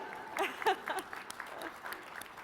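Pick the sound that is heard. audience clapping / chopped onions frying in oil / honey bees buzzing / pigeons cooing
audience clapping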